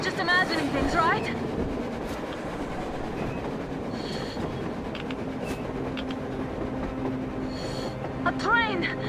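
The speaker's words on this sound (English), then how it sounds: "A train! A damn train on the surface!" A train in the video game Metro Exodus approaches on the surface: a steady rumbling roar with rolling rail clatter and faint metallic squeal, moderately distant and continuous throughout, with brief game voices near the start and end.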